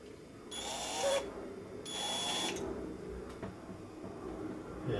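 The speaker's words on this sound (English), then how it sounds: "just go with the drill and just open it up with a tiny drill bit" A power drill fitted with a tiny bit bores into a hard steel knife blade in two or three short whining bursts, close and fairly quiet, with pauses between.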